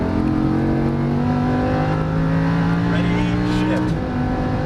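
A Lamborghini Huracan LP610 engine pulling hard at full throttle, a loud, close, steadily rising roar that holds for several seconds before easing near the end, with a voice over it.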